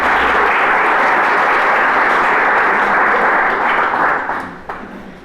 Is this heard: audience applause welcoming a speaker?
yes